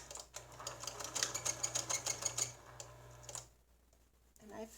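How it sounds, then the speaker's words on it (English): A sewing machine runs a short burst of rapid, rhythmic stitching while pleats are sewn into a fabric face mask, stopping after a few seconds and leaving near quiet with faint handling. "So now that I have that, I'm going to go ahead and sew in these pleats."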